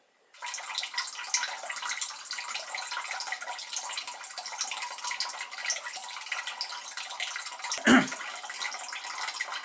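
Water jet of an indoor bamboo fountain splashing into its basin, a soft continuous hiss and patter with one brief louder knock near the end, no talk.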